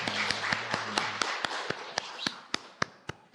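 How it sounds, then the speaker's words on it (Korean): Church congregation clapping in rhythm, sharp, evenly spaced claps about every quarter second, joined early on by a low sustained organ-like tone that drops out midway, leaving the claps alone. "하나님께 영광의 박수를 드리겠습니다."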